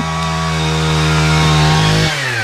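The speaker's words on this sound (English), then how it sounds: "We just found a chainsaw?" A loud chainsaw engine drones steadily up close, its pitch shifting and dropping near the end as the throttle changes.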